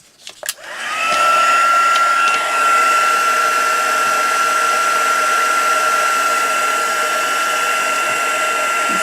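A heat tool blows hot air to set white embossing powder on vellum for a layered handmade card; after a few clicks it starts up into a loud, steady whirring hiss that holds to the end.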